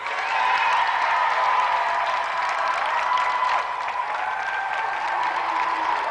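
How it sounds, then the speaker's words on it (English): Studio audience at a game show clapping for two competitors, a dense steady burst of applause lasting several seconds at even loudness, with crowd noise mixed in and no talk. "let's give another round of applause for two brilliant competitors, Andy Thomas and Jim McIver"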